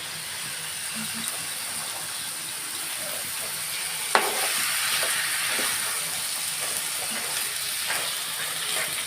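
Chicken and rice frying together in a pan for bhuna khichuri, giving a steady soft sizzle and hiss with occasional sharper crackles and one brief knock near the middle, fairly close but not loud.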